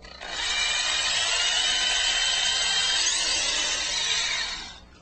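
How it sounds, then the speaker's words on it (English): A power drill bores a clearance hole into a guitar body, a steady high whirring drone that starts abruptly, holds level for several seconds close up, then stops. "I drilled this clearance hole about a half to 3/4 of an inch deep"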